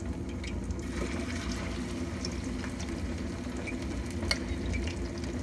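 A basa fish fillet fries in hot oil in a pan, giving a steady close sizzle with bubbling crackle and occasional sharp pops, unbroken by talk.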